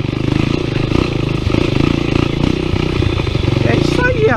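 A small NX motorcycle rides over rough off-road ground, its close engine chugging in a steady pulsing rhythm with clattering underneath, while a rider talks throughout.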